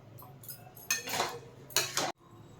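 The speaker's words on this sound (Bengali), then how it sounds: "এবার নাড়িয়ে নেব।" A spoon stirs a bottle gourd and potato curry with poppy seeds in a pan on a gas stove. Two or three scraping, clinking strokes of metal on the pan are heard up close, then the sound cuts off suddenly.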